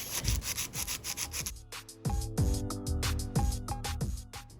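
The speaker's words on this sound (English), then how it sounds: "So I'm filing, making sure I'm touching both sides of both ends." Filing a tapered square nail: rapid, rhythmic rasping strokes, close and fairly loud, in a steady back-and-forth pattern with a slightly gritty scrape on each pass.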